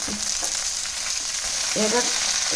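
Chopped onions and green chillies fry in a pan for red amaranth leaves, giving a steady close sizzle with occasional soft stirring scrapes and brief squeaky tones.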